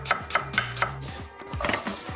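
A knife chops an onion finely on a board, a quick steady run of close, crisp taps, pausing briefly before another cluster of cuts.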